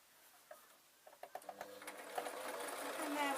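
A sewing machine stitching a travel pillow: a few slow stitches at first, then the motor speeds up into a steady, fast whirring run, close by and fairly quiet.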